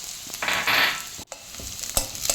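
Chopped onions tumble into a hot pan and fry with a loud burst of sizzling, followed by stirring scrapes and a steady hiss, close up.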